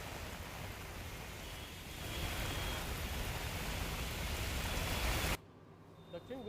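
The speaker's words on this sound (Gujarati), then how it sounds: "અત્યારે ધીમી ધારે વરસાદની શરૂઆત સુરતમાં ફરી એકવાર જોવા મળી છે" Light rain falls steadily in Surat as a soft, even hiss that swells slightly, then cuts off near the end.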